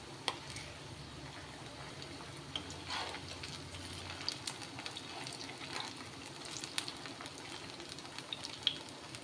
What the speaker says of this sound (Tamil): இந்த சைடும் மீடியம் ஃப்ளேம் வச்சு ரெண்டு நிமிஷம் பொறிச்சு எடுத்துக்கலாம்